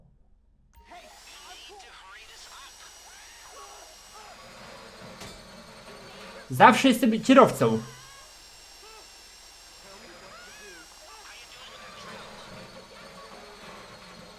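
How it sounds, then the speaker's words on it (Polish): A drill whirs during a casino heist in GTA Online, a steady mechanical hum that swells into a loud, rough grinding burst for about a second before falling back, with people talking over it. "Może jednak nie na maksa wiertło."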